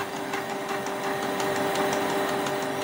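A Canon G2020 inkjet printer runs a head cleaning cycle with a continuous mechanical whir, a steady hum and faint rhythmic ticking, alone and fairly close.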